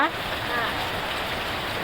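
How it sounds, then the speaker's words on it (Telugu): Heavy rain pours down in a thick, steady roar, loud and close, with a faint voice briefly at the start. "వర్షం అయితే ఫుల్ వస్తుంది"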